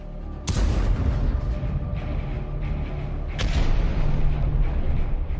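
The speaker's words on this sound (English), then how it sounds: "the second tank fires, finishing off the abandoned vehicle" A tank cannon fires point-blank at an abandoned infantry fighting vehicle, one sharp heavy boom rolling into sustained rumble, followed by a second fainter blast about three seconds later over continuous low noise.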